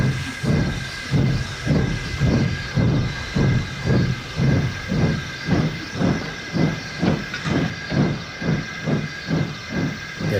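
Steam locomotive in the Trainz railway simulator hissing as it pulls away, a loud continuous steam hiss pulsing with rhythmic chuffs that gradually quicken across the clip.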